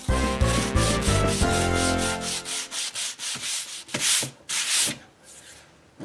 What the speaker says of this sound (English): now I'm going to sand the last little bit so that I don't accidentally tear some of the grain in the spruce